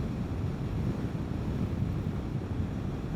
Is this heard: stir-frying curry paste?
no